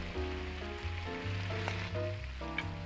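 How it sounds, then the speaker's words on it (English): Shrimp fry in clarified butter in a pan in the cooking game Cooking Simulator, giving a close, steady sizzle that sits under a tonal music bed throughout. "add the shrimp, fry it for 50 seconds"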